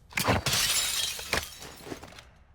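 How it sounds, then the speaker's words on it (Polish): Window glass smashes in the Warzone DMZ video game: a loud, close shattering crash, followed by a few smaller tinkling shard impacts that fade out. "Rozwalam szybę, żeby widzieć na termo."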